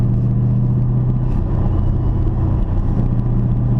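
A Chevrolet Camaro SS with dual mode exhaust idles close by in a steady, deep, loud rumble that holds even throughout without any talk.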